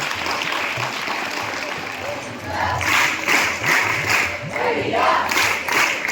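An audience applauding students honoured at a felicitation ceremony at a Gurukul PU science college in Bidar. Clapping swells in loud bursts after a quieter start, mixed with crowd noise and voices.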